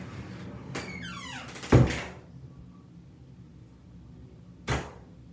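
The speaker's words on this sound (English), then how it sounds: "I'm gonna close the door for you." A door being closed indoors: a squeaky, creaking swing followed by a solid thud, then a second softer knock a few seconds later, with quiet room tone between and no talking.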